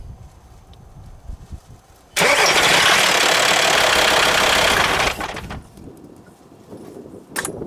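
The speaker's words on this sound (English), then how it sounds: "See if she can start the van." VW T5 van with a 2.5 TDI diesel engine cranking and firing up abruptly, then idling loudly and steadily for about three seconds before cutting off, close by.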